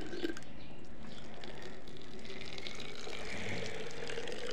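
Water pours into a small bottle at home, a continuous gurgling, trickling fill heard close up for several seconds without speech.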